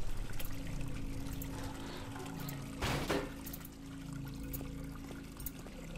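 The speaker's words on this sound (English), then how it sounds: "nothing like a nice refreshing blood shower" Blood shower pouring in the horror game Amnesia: a soft, continuous watery trickle and pour with one brief louder splashing gush midway, fairly quiet overall.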